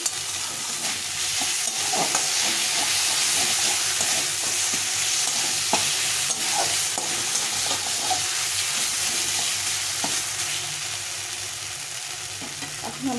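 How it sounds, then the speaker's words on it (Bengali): Spices sautéing with chickpeas in a pan over raised gas flame for banana flower curry, a continuous sizzle with repeated spoon scrapes and stirring clicks throughout. "ছোলা দিয়ে একটু কষিয়ে নেব এই সব মশলাগুলো আস্তে আস্তে কষা হয়ে যাচ্ছে"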